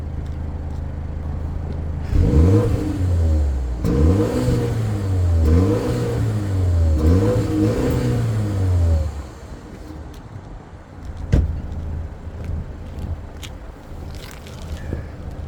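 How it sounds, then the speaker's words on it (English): A 2024 BMW X2 xDrive28i in sport mode revs hard several times in quick succession, each rising roar dropping back, then settles to a quiet idle with a brief clunk. "Car's in sport mode. Let's take a look at the sound."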